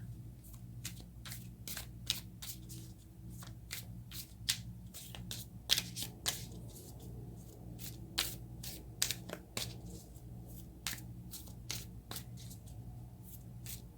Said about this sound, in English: let's take some cards from the universe and see what they would like to share